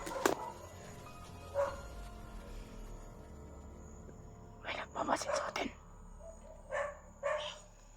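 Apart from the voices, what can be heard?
dogs barking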